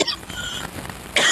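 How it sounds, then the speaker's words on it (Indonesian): A man coughs close to the microphone during a televised religious debate, with a short harsh burst at the start and another at the end and a quiet, breathy pause between them. "maaf bentar, saya batuk."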